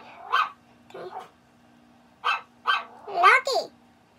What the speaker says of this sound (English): my dog's barking. He's just all barking like crazy.